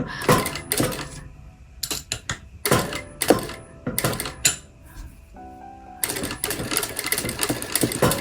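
Sewing machine stitching the seam of a lined drawstring bag, heard in several loud bursts of rapid mechanical whirring separated by short pauses and handling noises, ending in a longer continuous run.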